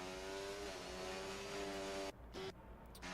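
A McLaren race car in a sim racing league event, its engine holding a strong, steady tonal whine at high revs before dropping away briefly near the end.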